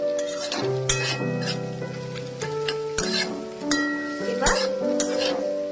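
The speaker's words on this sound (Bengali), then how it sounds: "এবার এর মধ্যে আমি ম্যাগিটাকে মিশিয়ে দেব" Maggi noodles stirred into fried egg in a frying pan, with repeated metallic scrapes and clinks of a utensil against the pan over a soft sizzle, and a voice talking throughout.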